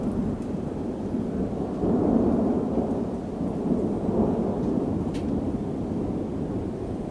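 Long, low thunder rumble rolling on for several seconds, swelling and fading, with rain hissing steadily underneath.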